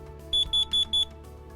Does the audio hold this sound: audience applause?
no